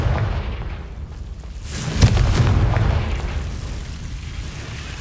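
Confringo blasting spell exploding in the game Hogwarts Legacy, a single booming burst near the middle over a constant background rumble, fading into a lingering roar.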